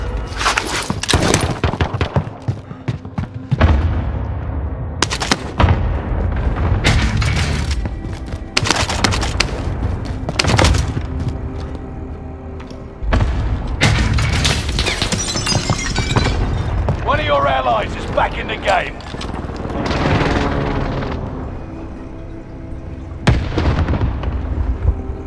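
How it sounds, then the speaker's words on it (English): Call of Duty: Modern Warfare combat, loud and dense: repeated gunfire bursts and heavy explosions crowd one another throughout, with shouted voices over the battle. "Under fire! They shoot me!"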